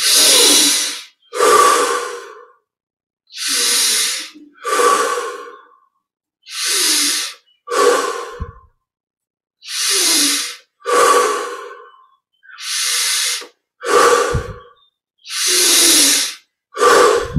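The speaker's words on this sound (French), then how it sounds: "Maintenant, on augmente un petit peu l'amplitude des respirations." Deep, slow breaths during a meditation exercise, close and loud, each inhale and exhale a long airy rush, repeating about a dozen times with short silences between them.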